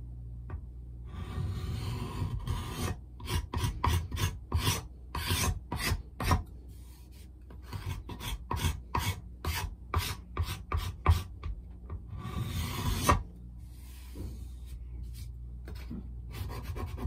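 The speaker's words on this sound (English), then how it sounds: "So I'm going to give it a scrape, give it a sand" Close, rhythmic rasping strokes as a wooden guitar body blank is scraped and sanded, coming in quick bursts with brief pauses.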